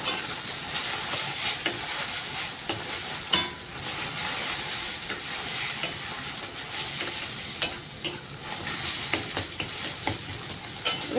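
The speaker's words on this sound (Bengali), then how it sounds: "ডিমটাকে ভালো করে একটুখানি ভেজে নেব" Beaten eggs with salt fry in a pan, a continuous close sizzle broken by frequent light spatula taps and scrapes, no voices.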